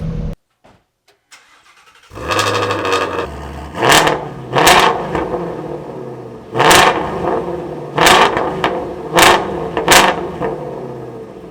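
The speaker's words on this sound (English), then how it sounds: "just turning on the engine, you get this sound that's unlike any other vehicle" A starter cranks and the engine of a Shelby GT350R sports car barks to life, followed by a series of loud throttle blips rising and falling over a rough idle.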